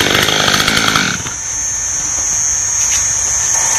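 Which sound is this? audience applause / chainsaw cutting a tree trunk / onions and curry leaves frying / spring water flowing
chainsaw cutting a tree trunk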